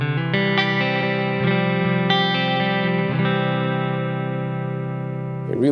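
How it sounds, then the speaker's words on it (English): An electric guitar through a Kemper Profiler rig plays sustained chords that change a few times, each ringing into a long, smooth wash of reverb and delay trails that blur together before a final short pluck. "Really add a nice wash of reverb and delay under the original sound."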